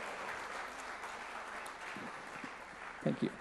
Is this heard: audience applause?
yes